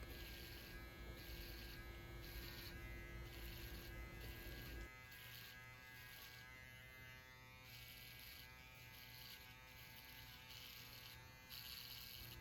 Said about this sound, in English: After using the trimmer, you can use the foil shaver